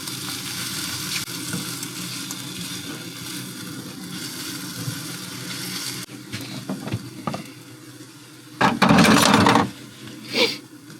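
Scrambled food fries in a pan inside a van on the Oregon Coast, a steady close sizzle through the first half, then quieter frying broken by stirring clatter and a loud burst of scraping and hissing near the end.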